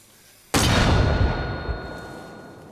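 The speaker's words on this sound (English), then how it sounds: "Fire mortar." A mortar fires in the video game Arma Reforger, a single loud sudden boom that rolls off into a long decaying rumble over about two seconds, alone with no talking.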